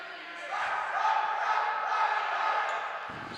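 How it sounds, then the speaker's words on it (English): A hometown crowd at a boys' varsity high school basketball game jeers the visiting Westwood team, a loud sustained roar of many voices filling the gym. "Hometown crowd giving it to the visiting Westwood team"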